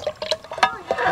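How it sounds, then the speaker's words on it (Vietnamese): Pumpkin milk pours in short splashy bursts, liquid trickling and dripping with a fuller stream near the end, close by. "Rồi mình rót ráo hết."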